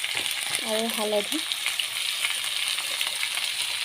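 Vegetables fry in a pan with a steady bright sizzle throughout, while a voice briefly speaks near the start.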